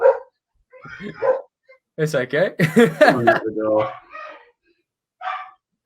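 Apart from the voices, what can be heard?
dog barking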